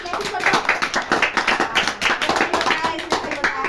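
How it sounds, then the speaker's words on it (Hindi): Children in a classroom clap hands in a quick, fairly even rhythm, close and lively, with some voices mixed in. "चलो ठीक है, ताली बजाओ इसके लिए"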